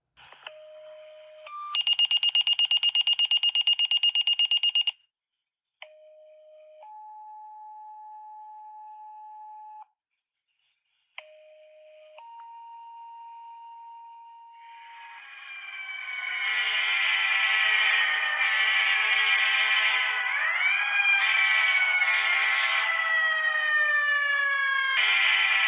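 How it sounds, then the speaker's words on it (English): Emergency dispatch tones followed by wailing sirens: a series of steady, loud alert beeps and held tones, then several overlapping sirens rising and sweeping up and down, loud and sustained to the end. "The emergency tones and sirens you are about to hear"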